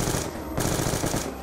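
Rapid automatic gunfire in Call of Duty Black Ops 2 Zombies, a dense burst of shots that briefly cuts out and resumes, loud and up close.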